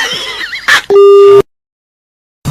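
A loud, steady telephone busy tone sounds briefly after a short burst of voice and clatter on a radio prank call after hanging up, then cuts to silence before another sound starts.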